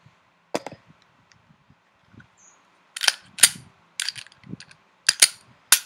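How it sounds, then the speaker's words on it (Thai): A Glock 26 pistol is cleared by hand: sharp, close metallic clacks and clicks of the slide and magazine come in scattered bursts, louder and clustered toward the end, in an otherwise quiet room. "ผม เคลียร์ปืนก่อนนะครับ"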